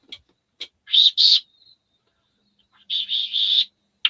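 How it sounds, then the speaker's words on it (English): A bird calls outdoors in a few clear, high chirping bursts, two short notes followed by a longer run of repeated calls, close and distinct against near silence. "Hello, bird."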